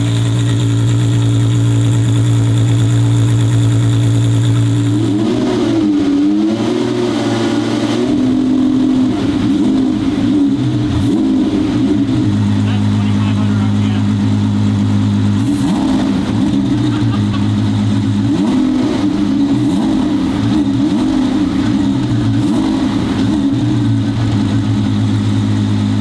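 A twin-turbo Ferrari V12 idles with a deep steady rumble, then revs in repeated rising and falling bursts that swell loud and close, with people talking briefly underneath.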